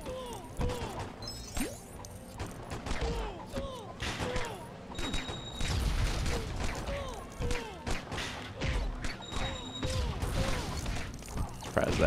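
Rapid bursts of gunfire and crashing impacts in the Lego Batman video game, dense and continuous, mixed with game effects and voice chatter throughout.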